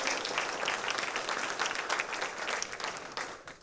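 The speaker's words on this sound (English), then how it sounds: "Everybody give them a round of applause." A crowd at a small-town political forum claps for veterans in the room, a fairly quiet but continuous round of applause that tapers slightly toward the end.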